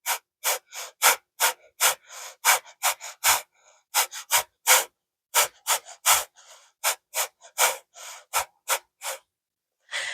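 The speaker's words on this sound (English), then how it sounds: "We're going to do 2 to 3 exhales per second." Rapid, forceful breaths pushed out through the nose arrive as a quick, even train of sharp bursts, about two to three per second, close and clear with silence between them.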